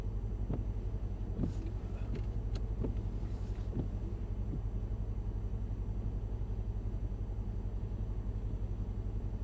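An AMG Mercedes-Benz spins out on a slippery handling track, heard as a steady low engine rumble with a few brief clicks and knocks, plus wind buffeting the microphone throughout.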